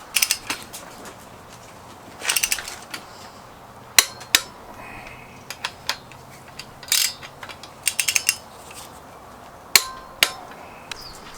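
Flywheel bolts on a Miata engine are torqued down with a wrench while a pry bar holds the flywheel teeth, giving short bursts of close ratcheting clicks and sharp metallic clinks separated by quiet pauses.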